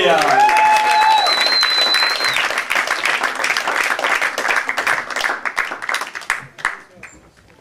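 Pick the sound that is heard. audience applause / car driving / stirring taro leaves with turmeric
audience applause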